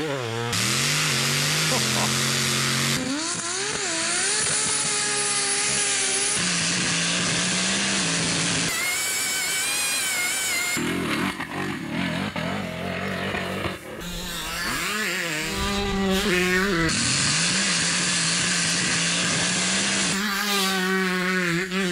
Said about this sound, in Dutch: Parijs-Dakar, fantastisch. Die auto's.